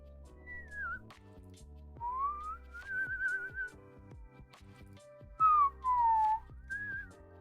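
A lone person whistles several short tunes with rising and falling pitch in close, clear solo phrases, broken by brief pauses, with a couple of louder bursts near the end.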